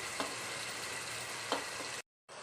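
Potato, carrot and tomato fry in a pan with a steady, soft sizzle, broken by a couple of faint stirring clicks and a brief cut to silence near the end.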